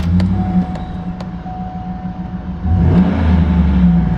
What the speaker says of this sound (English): Engine sounds really, really good.